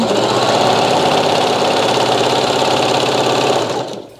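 A sewing machine fitted with a J foot runs steadily, stitching a double-layer satin bonnet. The loud, even motor whir and needle chatter continue without a break, then fade out just before the end.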